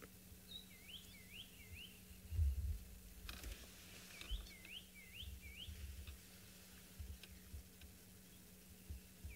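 A bird in the African bush gives repeated whistled alarm calls, the kind that warn of leopards and other big cats, in two short bursts at moderate distance over a low background rumble.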